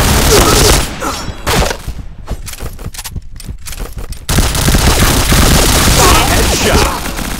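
Rapid automatic gunfire from a shooting video game, loud and close, with dense bursts of shots running nearly the whole time and a brief thinner stretch in the middle.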